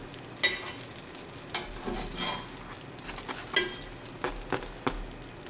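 Naan bread cooking on a hot fajita pan, with faint crackling sizzle under a series of sharp clinks and scrapes of utensils against the metal, quiet and close with no talk.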